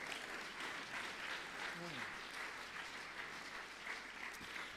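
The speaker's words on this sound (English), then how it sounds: "Give him a big round of applause, ladies and gentlemen." An audience at St Mary's Upton applauds a performer, a faint, distant wash of steady clapping with a brief voice and a low tonal sound partway through.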